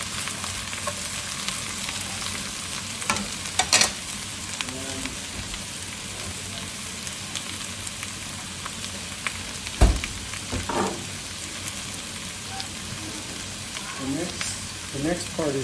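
Carrots frying in a single pan for a New Mexico style Thai curry keep up a soft, even sizzle, broken now and then by brief clatters of stirring.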